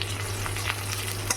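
Chopped garlic and green chilli fry in a pan, giving a continuous close sizzle with a few light stirring scrapes over a low hum.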